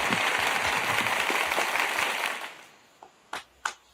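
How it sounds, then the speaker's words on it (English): An audience claps together in a full, dense burst of applause that fades out after a couple of seconds, leaving a few last isolated claps. "Let's clap it up for the legend."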